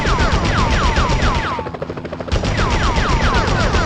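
Gunfire in a Spider-Man video game, rapid automatic bursts rattling over a loud whirring drone, briefly dropping away before resuming at full intensity, with no talk.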